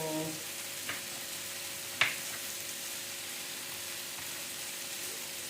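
Garlic fries in a pan with a faint, steady sizzle, broken by a couple of soft clicks and one sharper tap of a utensil.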